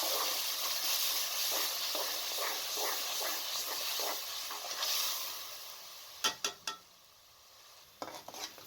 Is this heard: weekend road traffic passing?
no